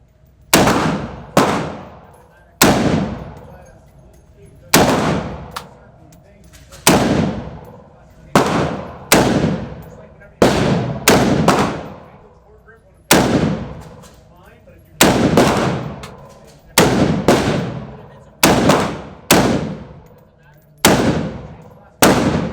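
Gunfire at a shooting range, a long series of loud, close shots spaced a second or two apart, each one sharp with a ringing decay, while people talk in between.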